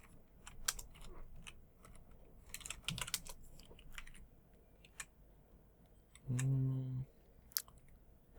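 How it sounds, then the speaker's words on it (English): Soft clicks of typing on a computer keyboard come in scattered quick bursts, faint and close, with a short electronic tone breaking in partway through. "All the typing that I'm doing here"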